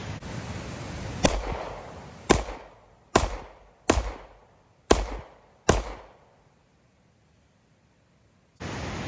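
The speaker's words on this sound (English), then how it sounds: "then we're going to do a rapid fire test" A Stoeger STR-9 pistol fires six sharp gunshots in fairly quick succession outdoors, each a loud crack with a decaying echo, followed by a pause.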